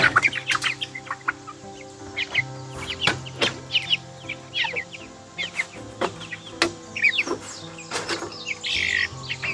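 Chickens cluck and squawk at feeding time on an Appalachian mountain farm, a busy close flock with irregular bursts of calls and scattered sharp clucks over a quiet background.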